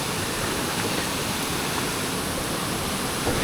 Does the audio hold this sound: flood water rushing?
yes